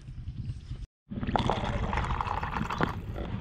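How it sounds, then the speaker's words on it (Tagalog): Water poured out in a steady stream at a planting site, a continuous splashing wash that breaks off briefly and then resumes, close and fairly loud. "Tubig, tubig."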